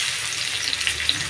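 Tomatoes added to hot oil with cumin, mustard seeds and cooked onion, giving a loud, continuous close-up sizzle with a few tiny pops over its brief length.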